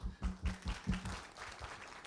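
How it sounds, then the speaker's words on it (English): A small audience at an academic conference on traditional medicine gives brief, sparse applause, with distinct claps in an uneven rhythm and a low hum underneath. "Please applaud."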